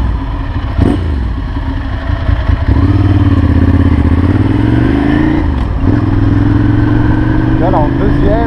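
Ducati Monster 796 motorcycle pulling away in second gear around 2500 rpm on Paris city streets, the engine note rising in pitch as it accelerates, loud and close, with someone talking over it.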